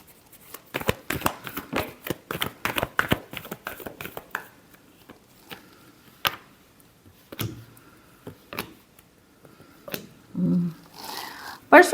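Tarot cards being shuffled by hand: a rapid run of crisp riffling snaps and flutters, close and dry, easing into scattered taps and soft card movements, with a few faint voice sounds near the end.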